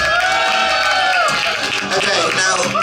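An audience at a live concert erupting in a loud, sustained cheer on a count of three, dense whooping and shouting voices filling the room evenly for a few seconds.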